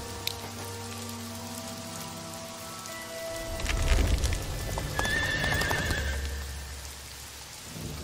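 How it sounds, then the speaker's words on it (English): Steady rain patters throughout, with a horse neighing and hooves clopping in the middle, all set against the ambient soundtrack of the game Dark Romance 14: Sleepy Hollow. "Is it going to be raining the whole game?"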